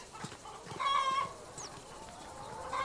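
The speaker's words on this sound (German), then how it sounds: "vom aufgeregten Hühnervolk umringt" Agitated chickens cluck and squawk in a radio drama, a shrill rising squawk standing out among scattered clucks and rustles at moderate volume.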